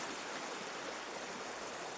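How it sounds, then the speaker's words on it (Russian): A mountain river in Planchesky Gorge, Seversky district, Krasnodar Krai, flows in a steady, full broadband rush, close and constant with no breaks and no voices. "Вот, река убегает,"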